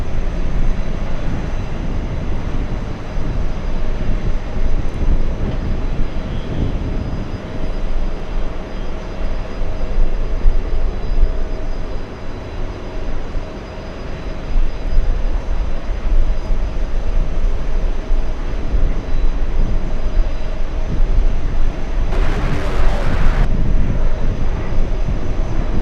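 A passenger jet bound for Los Angeles takes off from New York's JFK airport, a long, loud and sustained engine roar that swells and rumbles steadily over the whole stretch, with no voices.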